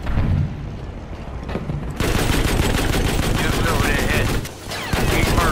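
Tank guns firing in Battlefield V, a Staghound and a Panzer 38t, with a continuous dense clatter of rapid automatic rounds and booming impacts, loud and close, with a brief dip before resuming.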